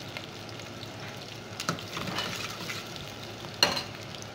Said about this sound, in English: Fry the onion a little bit before adding any other thing.